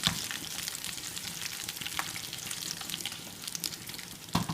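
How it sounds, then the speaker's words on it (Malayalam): Shallots, fenugreek seeds, dried red chilli and curry leaves fry in hot oil as a tempering for cucumber moru curry, giving a soft, steady crackling sizzle throughout with a brief louder pop near the end. "ഇതിനെ നമുക്ക് ഒന്ന് വറുത്തെടുക്കാം"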